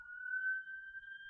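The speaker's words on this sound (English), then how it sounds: "Sirens on my end." A police siren sounding outside, heard as a steady, sustained high tone that stays at an even loudness without rising or falling, alone with no talk over it.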